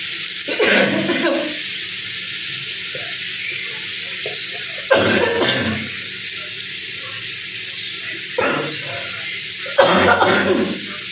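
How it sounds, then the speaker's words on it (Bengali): Several heavy, loud coughing bursts at irregular intervals in a home kitchen, heard over a steady background hiss of food cooking on low heat for a fish-head and ash gourd ghonto. "জোর কাশি হয়েছে।"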